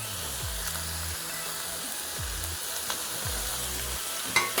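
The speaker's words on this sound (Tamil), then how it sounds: "இதையும் போட்டு நல்லா வதக்கிட்டு" Coconut pieces sautéing for mint thogaiyal give a steady, close frying hiss, with a few soft scrapes of the spatula against the pan and a small clink near the end.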